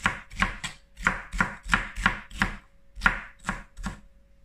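Red bell pepper sliced with a knife on a cutting board, about a dozen crisp, evenly spaced chops, close and clear with no talking.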